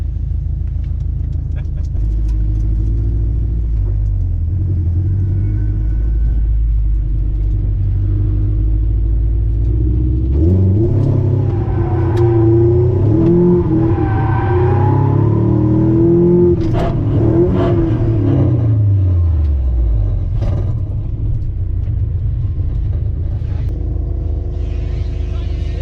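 A drift car's engine revs hard under clutch kicking, a loud continuous rumble that rises and falls through surging, wavering revs over roughly half a minute, with some talking mixed in.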